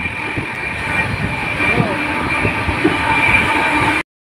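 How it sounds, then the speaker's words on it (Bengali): The Shantiniketan Express runs past paddy fields with a steady, loud rumble and hum of wheels and carriages that holds for about four seconds, then cuts off abruptly. "সোনালি ধানের ক্ষেত পেরিয়ে ছুটেছে ট্রেন।"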